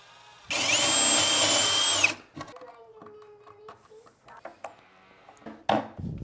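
A power drill boring holes in a wood 2x4 while building a catapult, one loud sustained whine lasting about a second and a half, followed by quieter knocks and handling sounds.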